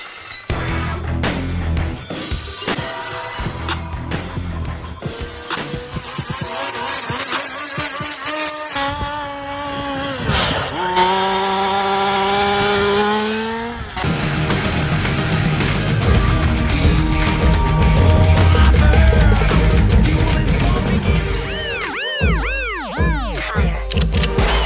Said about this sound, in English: we strap it into the gas Rampage, and then we go into the snow, baby. We're gonna drag this thing around.